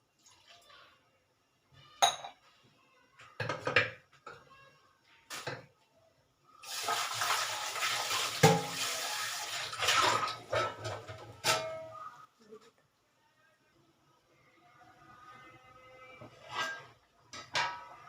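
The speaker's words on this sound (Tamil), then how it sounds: "கொஞ்சம் தண்ணி ஊற்றணும் அதில்." Water poured into a pot of tomato dal in a home kitchen, a gushing splash lasting a few seconds among scattered clinks of utensils and pot knocks, close and fairly loud.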